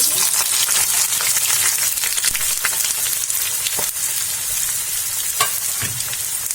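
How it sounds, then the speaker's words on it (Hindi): Onions frying in hot oil in a kadai for paneer masala, giving a steady, loud, close sizzle with a few light clicks and stirring sounds throughout. "कढ़ाई में तेल गर्म हो चुकी है। अब इसमें हम डालेंगे प्याज"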